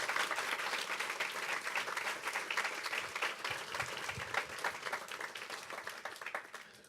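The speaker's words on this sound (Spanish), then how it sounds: "Dale un aplauso al Señor si puede" A church congregation applauding the Lord during a sermon on the Lord's Supper: sustained, even applause from many hands at moderate volume, with a faint crowd murmur beneath.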